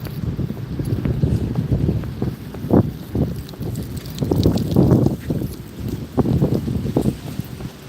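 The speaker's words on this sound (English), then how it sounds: "It's cold wind, blow, blow, blow." Cold wind buffets a microphone during a drive, a steady low rumble that swells in gusts throughout, with no one speaking.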